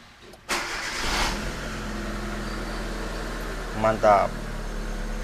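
A Hyundai Avega engine starts just after a moment of quiet and settles into a steady, even idle. Someone speaks briefly over the running engine near the end.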